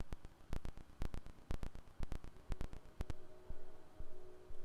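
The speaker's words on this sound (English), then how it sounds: "Square wave is buzzier." A synthesizer square wave oscillator runs at a very slow rate, giving sharp, buzzy clicks spaced out one by one in a steady rhythm under a low background hum.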